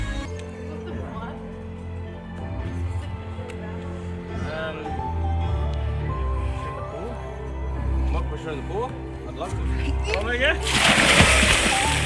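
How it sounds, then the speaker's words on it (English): A person shoved into a swimming pool during an outdoor shoot, with water splashing and sloshing throughout and a loud, broad burst of splash near the end, mixed with background voices. "I just got pushed in the pool and I just snorted water up too"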